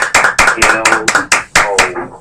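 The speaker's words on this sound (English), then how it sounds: "Give me some clap on that one." An audience claps along at a church youth gathering, loud sharp claps in a steady beat of about eight strikes, with a voice sounding between and over them.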